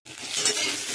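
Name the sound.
potatoes and vegetable stems frying in pan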